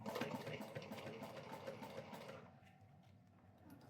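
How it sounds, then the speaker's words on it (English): A heavy duty sewing machine stitching cotton runs with a steady, quick mechanical whir and needle chatter, fairly quiet and close, then slows and fades toward the end. "right now I'm sewing cotton, and the machine, because it's more of a heavy duty machine,"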